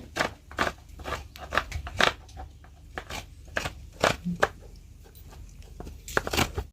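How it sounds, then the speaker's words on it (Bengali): Fresh coconut flesh being grated by hand for a prawn and coconut pitha cooked in banana leaf: a close, uneven run of quick scraping, crunching strokes with short pauses between them. "নারকেল কোড়াতে কেমন লাগছে"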